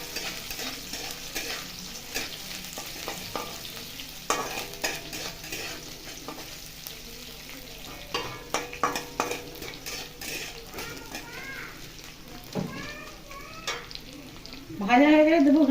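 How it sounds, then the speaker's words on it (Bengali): Chopped ginger, garlic and onion fry in a pan for fried masala idli, with steady sizzling and repeated scraping stirs and utensil clinks, closer and louder toward the end. "দেবো রসুন কুচি, অল্প একটু পেঁয়াজ কুচি দিয়ে এটাকে ভালো করে ভেজে নেবো।"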